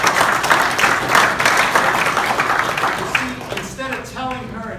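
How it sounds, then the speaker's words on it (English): Audience at a keynote talk in Birmingham, Alabama giving a round of applause, a dense burst of clapping that fades out under a voice near the end. "Round of applause"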